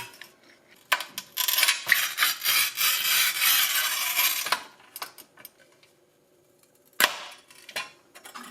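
A Parkside manual tile cutter scores a 40 cm ceramic tile about 7-8 mm thick: close, dry scraping strokes for a few seconds, then scattered clicks and a sharp crack as the tile snaps.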